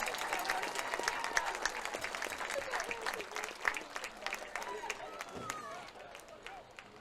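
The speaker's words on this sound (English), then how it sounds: "Let's have a round of applause for the 1994 football team." A high school football gathering claps for the 1994 football team in a scattered, moderately distant round of applause that trails off toward the end, with faint voices in the room.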